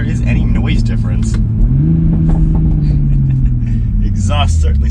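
Toyota A90 Supra engine with an aftermarket exhaust mod revs hard and loud, a steady rumbling drone rising in pitch midway through, with a voice talking over it.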